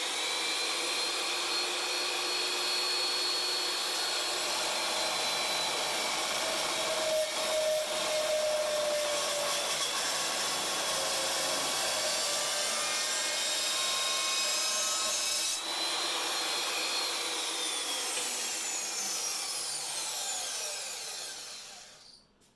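Metal strip being cut into short lengths to make four end caps for welded chassis tubes, a loud, steady, continuous sawing and grinding roar lasting about twenty seconds before cutting off at the end, with no talking.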